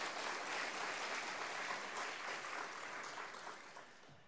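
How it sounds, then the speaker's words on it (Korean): A congregation claps for the worship team at a rainy Wednesday evening service in a Korean church in Southern California, a soft, steady patter of hands fading away over a few seconds. "격려의 박수 보내주시기 바랍니다."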